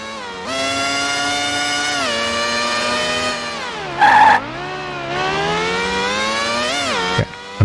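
Formula 1 car in qualifying in F-1 World Grand Prix II, a high, buzzing engine whine that climbs and drops through gear shifts, loud and continuous with a brief skid-like burst midway.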